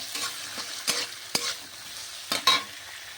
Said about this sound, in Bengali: আর গাজর কুচিগুলো দিয়ে দেবো ভালো করে এগুলো আমি একটু ভেজে নেব